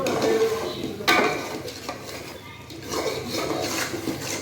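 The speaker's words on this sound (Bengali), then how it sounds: "আলু ফ্রাই করছি" Potatoes frying in a pan for an egg recipe, heard as steady hissing with scraping and clinking of a utensil against the pan, fairly close and continuous.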